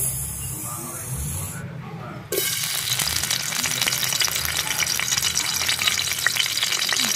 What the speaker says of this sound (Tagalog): Siyempre maraming mantika. At sibuyas.